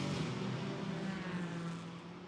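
A BMW GT4 race car on a flying qualifying lap at Imola gives a steady, droning engine note that stays fairly constant and moderately distant.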